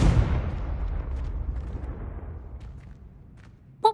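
A Confringo fire spell explosion in the video game Hogwarts Legacy, a loud close blast that opens the clip and decays into a long rumbling tail, followed by a brief sharp sound at the end.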